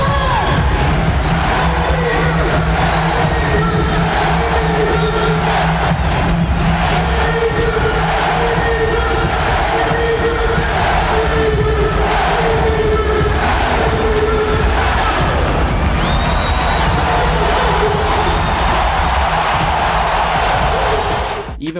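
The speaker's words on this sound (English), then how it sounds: "the entire crowd all at the same time chanting and going along with the music for their two homegrown stars" Arena crowd at a boxing event chanting in unison along with ring-walk music for two homegrown boxers, a dense, loud, sustained roar of voices with rhythmic swells over the music throughout.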